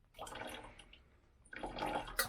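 Hot starchy pasta water being poured out of a pot into a sink, two short gushing splashes separated by a brief lull, close and fairly quiet.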